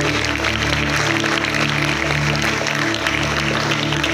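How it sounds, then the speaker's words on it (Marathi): A school audience at a World Yoga Day event claps to welcome a teacher, a broad steady wash of applause mixed with a sustained tonal hum, fairly loud and unbroken. "शिवदास सर यांचं टाळ्या वाजवून स्वागत करायचं आहे"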